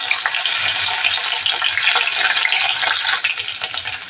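Green chillies and a bay leaf hitting hot groundnut oil, a loud, dense, crackling sizzle that holds steady throughout, close up with no speech.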